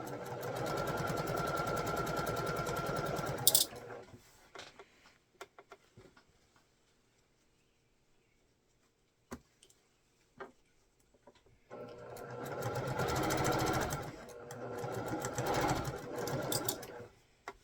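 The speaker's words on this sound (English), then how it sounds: "I'm going to go ahead and sew all the way down, one column at a time, into that web piecing" Sewing machine stitching a quilt column into web piecing, running in a steady continuous whir for several seconds, pausing with a few small clicks, then resuming its loud, even stitching.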